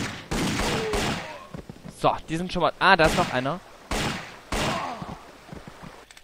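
Bursts of rapid gunfire crack in quick volleys in the game Indiana Jones and the Infernal Machine, interspersed with someone talking over the shooting.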